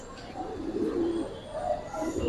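Giribaz silver pigeons cooing at a pigeon sale, a soft, low, rolling coo heard close and continuous over faint background noise.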